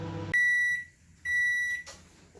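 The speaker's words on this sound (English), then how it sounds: "give that 1 more minute in the microwave" Two long electronic beeps from a microwave oven just after heating keto fufu, each a steady, loud tone with a brief pause between them, following a moment of room noise.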